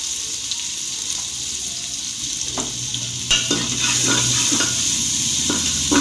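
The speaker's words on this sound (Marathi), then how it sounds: "व्यवस्थित कांदे परतून घ्यायचे" Two finely chopped onions frying in oil for a spicy chicken masala, a steady close sizzle with utensil stirring and scraping against the pan, growing louder partway through.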